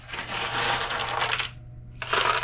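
Trimmed gold-fingered circuit card scrap pieces poured onto a scale, a dense, close, clattering jingle for about a second and a half, a brief pause, then another rattling pour, with no talk.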